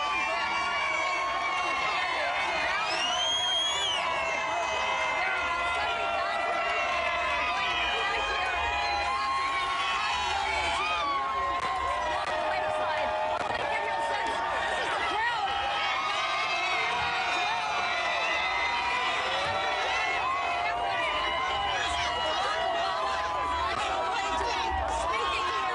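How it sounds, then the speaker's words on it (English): A huge, excited election night crowd cheers and roars at Grant Park, Chicago, with sustained whoops and shouting filling the air as a reporter tries to talk over it. "That crowd around you is so powerful."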